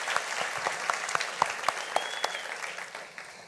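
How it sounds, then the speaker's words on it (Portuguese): Church congregation clapping in short bursts during a sermon, a steady wash of applause dotted with sharper individual claps and a brief cheer, fading toward the end. "Eu vou falar algumas coisas e a gente vai aplaudir"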